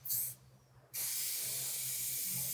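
A spray paint can hisses close by in street-art work, first as a short burst, then after a brief pause as a loud, steady spray that holds to the end.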